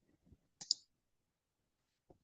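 A sharp double mouse click, brief and close, with faint soft handling noises just before and another small tap near the end, from a right-click in PowerPoint.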